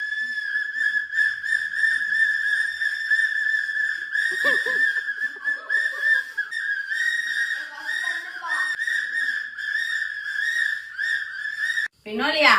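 A bride and groom whistle on a wedding stage: a loud, shrill, sustained whistle tone runs almost continuously for about twelve seconds, with short breaks and faint crowd voices and laughter behind it.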